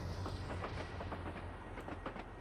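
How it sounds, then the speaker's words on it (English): Rock freight train rolling past on the Miami to West Palm Beach line, low rumble with rhythmic clickety-clack of wheels over rail joints, fairly faint and steady. "There's a rock train, which actually does have rocks in it, by the way."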